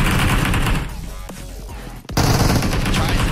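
Rapid bursts of Uzi submachine-gun fire in a PUBG Mobile scrim match, loud and dense, briefly dropping off before a sharp blast and another sustained volley.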